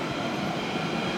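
A London Underground Central Line train pulling out of West Acton station makes a continuous broadband rumble with a steady hiss, close and fairly loud throughout, with no voices.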